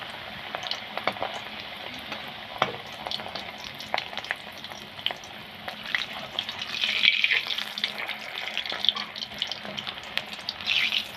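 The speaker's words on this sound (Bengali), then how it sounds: "এটাকেও আমি ঠিক এইভাবেই ভেজে নেব।" A keema papad roll fries in oil with a continuous crackling hiss and scattered sharp pops, fairly close and steady, growing a little busier toward the middle.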